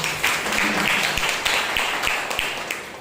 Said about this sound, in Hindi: और एक जोरदार ताली बजाइए।